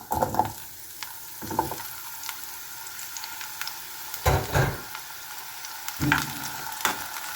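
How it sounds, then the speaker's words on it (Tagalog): Small unpeeled potatoes frying in hot oil, a steady crackling sizzle broken by several louder clattering stirs and knocks of the pan, no talking. "So, ilagay natin dito, prituhin natin."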